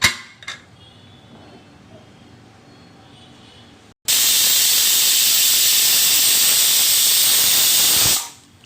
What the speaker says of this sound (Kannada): ಎರಡು ಈಸಲ್ ಕೂಗಿದೆ